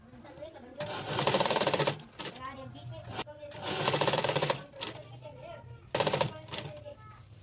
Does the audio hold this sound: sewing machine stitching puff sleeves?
yes